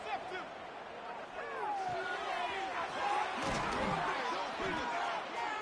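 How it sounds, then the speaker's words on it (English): Fired-up crowd at a football game roars steadily and loudly throughout, with a commentator's voice talking over the dense noise. "this crowd is fired up. Listen to this noise here."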